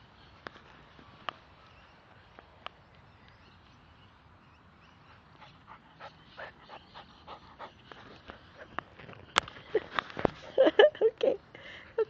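A dog pants close by, soft rapid breaths at first that grow louder and faster toward the end, with a few sharp clicks scattered throughout.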